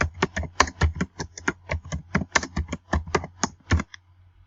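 A question is typed on a computer keyboard in a quick, even run of close, crisp key clicks that stops abruptly.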